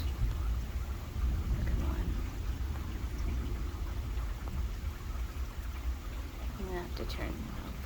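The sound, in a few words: thunderstorm with rain and thunder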